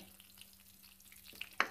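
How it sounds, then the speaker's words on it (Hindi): Cumin seeds dropped into hot oil for a tadka in a home kitchen, a faint soft sizzle with a low steady hum, ending in a couple of sharp clinks and a louder burst of crackling. "वो गर्म हो चुका है, अब हम इसमें जीरा डालेंगे।"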